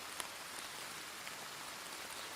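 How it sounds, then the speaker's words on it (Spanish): Steady rain falls in an even, hissing wash with faint scattered drop ticks, fairly quiet and continuous throughout with no voices. "mientras la lluvia seguía cayendo"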